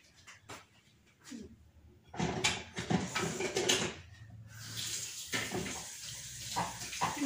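Running water from a tap while something is washed, starting with faint scattered clatters, then a louder gushing stream with splashing and handling sounds, close by, with no talking.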